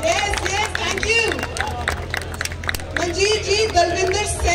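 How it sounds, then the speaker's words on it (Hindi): A crowd at a bodybuilding championship in Dera Bassi, Punjab claps and cheers in a busy, continuous wash of applause as an announcer speaks loudly over it. "तालियां मतलब ऐसे रुकनी नहीं चाहिए"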